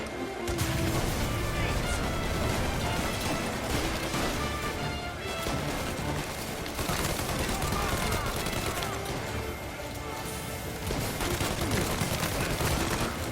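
Rapid pump-shotgun blasts and crashing impacts from a video game firefight keep up a loud, dense barrage through the whole stretch, with a voice talking over the chaos.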